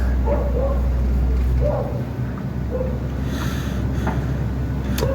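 A dog gives a few short yips and whimpering barks at moderate distance against a steady low hum and background noise, in a home setting in Mexico.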